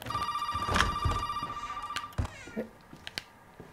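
A telephone rings with a repeated electronic tone, followed by clatters and knocks.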